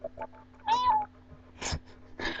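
A person imitates a cat's meow with short, nasal mew sounds, a few brief calls spaced out, fairly close and quiet.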